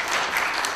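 Audience applause at a book launch event, a dense steady wash of clapping from a crowd filling the whole short moment without a break.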